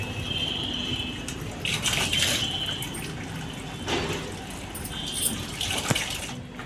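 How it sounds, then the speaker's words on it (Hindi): Drinking water filled from a tap into a container, a steady gushing, splashing stream with occasional knocks and drips, heard close with no talking. "तो मैंने सोचा पानी भर लेती हूँ"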